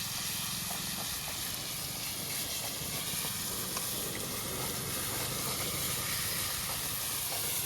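Chili tempering for potatoes in a desi-style batata bhungra dish hisses and sizzles steadily in hot oil, a continuous broadband frying noise heard close with no voices.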